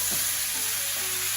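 Ginger, garlic and vegetables sizzle steadily in a pan of goat curry while being stirred, a continuous close frying hiss with faint scraping and no talking.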